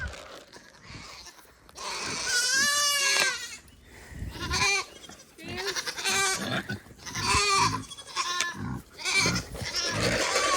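Goats bleat loudly and repeatedly in a new pen, with wavering calls that overlap one another across several seconds while a person calls out over them.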